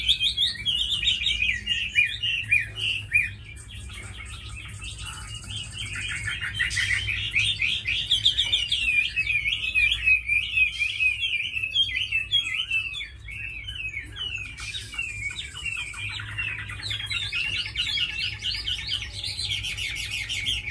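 A tame hwamei songbird sings loud and close, pouring out long runs of varied whistled and warbling phrases with brief pauses, over a low steady background hum.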